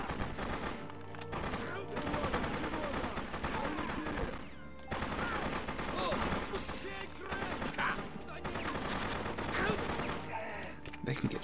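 Sustained gunfire in the Freedom Fighters video game, heavy machine-gun fusillades in long loud bursts broken by brief pauses, with shouted voices mixed under the shooting.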